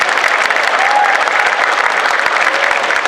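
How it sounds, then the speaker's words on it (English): Audience at a cosplay championship in Perth breaks into loud, steady applause, dense clapping close and continuous for the whole stretch with no talk. "Big round of applause for Fleur."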